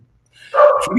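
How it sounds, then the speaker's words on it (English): A dog gives a single loud, close bark with a short whimpering tail, heard on its own after a moment of quiet. "sorry about the dog barking"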